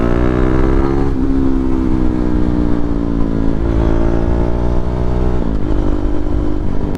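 A KTM 390 Duke motorcycle rides and accelerates, its engine a loud, steady drone that rises in pitch through the gears, with short dips at each shift.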